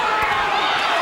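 Boxing crowd at a live Mendoza vs Santos fight producing a steady, loud roar of cheering throughout, dense and continuous with a couple of brief louder swells.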